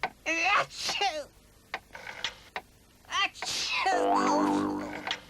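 A loud sneeze bursts out in a 1960s British cold remedy television advert, following brief voices and stray noises, with a ringing tone trailing after it.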